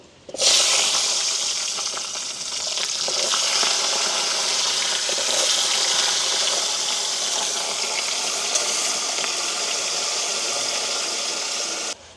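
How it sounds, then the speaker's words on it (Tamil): Washed onions dropped into hot oil in an outdoor village kitchen, giving a loud, steady, close sizzle that starts suddenly and holds evenly for the whole stretch. "கழுவி வச்சுருக்கிற வெங்காயத்தை போட்டு பொறிப்போம்"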